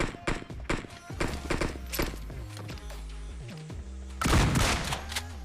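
Rapid bursts of gunfire in a Hindi-commentated duo battle video game, loud sharp shots in quick clusters over a busy, layered game soundtrack, with a heavier burst near the end.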